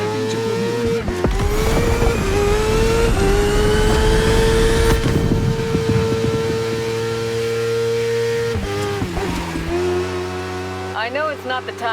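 Motorbike race engines in The Crew Motorfest, loud and constant with rising and falling whines as bikes accelerate and shift through gears, heavy mechanical roar throughout.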